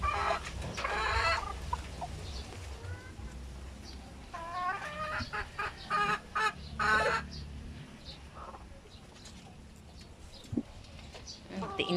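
A chicken clucks close by in short bursts and rising calls, joined by other fowl sounds, while people talk nearby.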